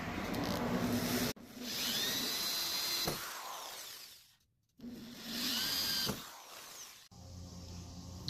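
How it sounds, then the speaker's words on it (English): A power drill boring holes for a motorcycle top case on a 2018 Royal Enfield Himalayan, two long whining bursts with rising and falling pitch, separated by brief quiet pauses and handling noise. "Now you can start to drill."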